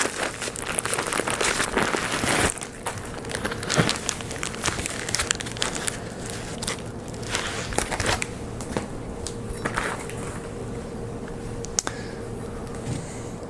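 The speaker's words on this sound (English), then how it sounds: "So let's unwrap this one." Unwrapping an 8x5 vise jaw plate of 4140 pre-hardened steel from its packaging: steady close crinkling and crumpling of wrapping material over about thirteen seconds, with sharper tearing bursts early on.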